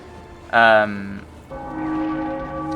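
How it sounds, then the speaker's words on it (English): Church bells ring in the video game Sniper Elite V2, a loud bright bell strike followed by a sustained, resonant second tone that hums and fades. "But yes, the bells."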